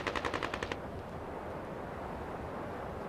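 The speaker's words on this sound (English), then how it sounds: "The militiamen fired an anti-aircraft cannon and rifles into the crowd." Anti-aircraft cannon and rifle fire from militiamen during a deadly Tripoli clash with residents: a rapid burst of about ten loud, closely spaced shots, then a steady rumbling roar of distant gunfire and wind.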